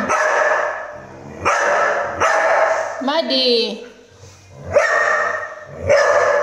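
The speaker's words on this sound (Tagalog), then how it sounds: "Oh, tahol si Milky, oh." Milky the dog lets out a series of sharp, loud barks close by, with a short whimpering whine in the middle, while a person talks to her between the barks.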